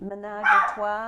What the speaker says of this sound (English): That's the dog going at the 2 cats,